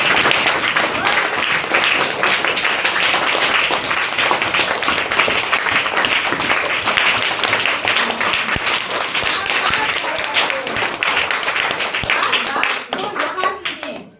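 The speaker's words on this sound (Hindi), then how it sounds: "जोरदार ताली लगाओ गोनू झा" Loud, sustained applause from an audience cheering for Gonu Jha, dense clapping throughout that fades out near the end, with children's voices mixed into the crowd.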